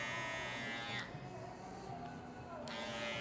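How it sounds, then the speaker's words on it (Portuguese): Electric hair trimmer, a finishing clipper, buzzing steadily close by during a barbershop mid fade haircut, its tone shifting slightly as it moves against the hair, with no talk over it. "eu vou afastar ela com a máquina de acabamento"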